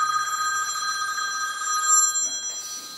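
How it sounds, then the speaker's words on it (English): A mobile phone rings in a classroom with a steady electronic trill carrying a bright sustained tone, fairly faint and alone for about two and a half seconds before fading into faint background shuffle. "That's happens when you don't turn your phone off."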